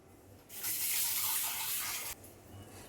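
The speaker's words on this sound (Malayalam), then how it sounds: "കുറച്ച് വെള്ളം കൊണ്ട് നമുക്ക് ഒഴിക്കാം" Water gushes steadily for about a second and a half as it is poured into a simmering cashew-thickened Mumbai-style green pea masala curry. The hissing splash starts and stops abruptly, with quiet kitchen background before and after.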